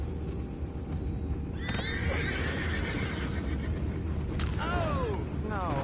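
Horses in the Western video game Red Dead Redemption 2 whinny and neigh several times over a low rumbling background with hoof clopping, the calls rising and falling in sharp bursts, fairly close.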